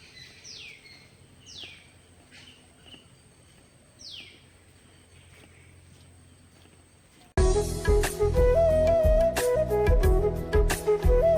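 A few bird chirps and sweeping calls sound faintly over quiet outdoor ambience, then loud music abruptly takes over.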